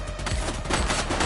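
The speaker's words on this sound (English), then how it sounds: "He's shooting!" Gunfire in a police precinct scene, heard as a dense, loud burst of rapid shots filling the whole moment with no pause.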